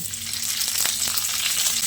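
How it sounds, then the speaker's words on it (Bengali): Ginger, cashews and tomato halves frying in oil in a pan for a vegetarian cauliflower dish, a steady close sizzle with a few soft stirring scrapes. "কাজুটা দিয়ে আদার সঙ্গে আরও কিছুক্ষণ ভেজে নিতে হবে"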